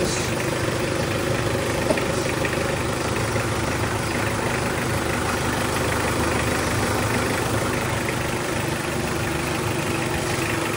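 A Toyota car engine idles after an oil sludge cleaning, a steady, even mid-to-low running hum held at constant level throughout, close by with no talking.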